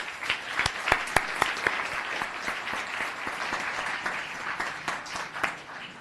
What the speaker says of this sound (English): So one more round of applause.